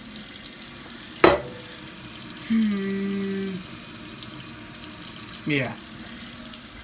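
A rice pot is filled with tap water in a kitchen sink, a steady running stream lasting about a second, framed by two sharp clunks of the pot being handled, with a brief spoken word.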